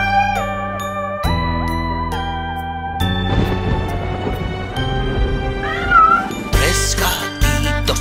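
Kittens meow in a cartoon nursery-rhyme song, several sliding, high cries standing out over bright music with bells and chimes, loud and close.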